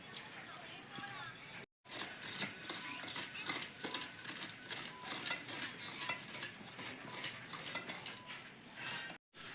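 Fresh coconut being grated by hand for tal payesh, a steady run of rough rhythmic scraping strokes close by, with a voice talking over much of it.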